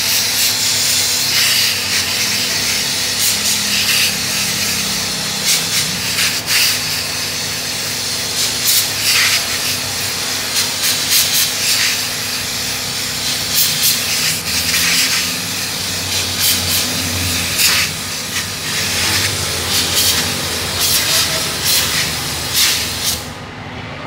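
A pressurized spray washes the outside of a Toyota Avanza engine, giving a loud, steady hiss with faint rushing that runs unbroken throughout, no voices.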